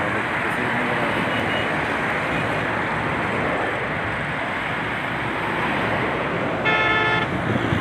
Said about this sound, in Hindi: ये जो ट्रैफिक आ रही है इस्लामाबाद से लाहौर की तरफ, रवात की तरफ जाने वाली ट्रैफिक